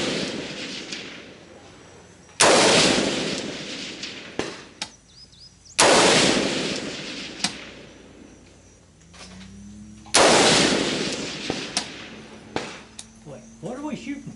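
Rifle shots ring out on an outdoor shooting range at targets about 250 to 300 yards away, three loud sharp cracks spaced several seconds apart, each with a long echoing decay, along with fainter clanks and low voices between them.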